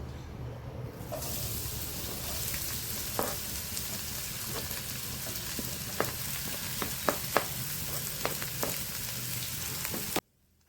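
Sliced onions fry in a pan for an okra roast, giving a steady close hiss and sizzle with occasional small pops and clicks of a utensil, which cut off abruptly near the end.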